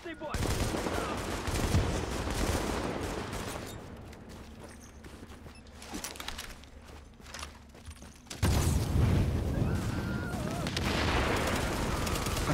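Pistol gunfire and other weapon shots in Tom Clancy's The Division, Dark Zone combat, with dense bursts of shooting and explosive booms, a quieter stretch mid-way, then renewed loud firing.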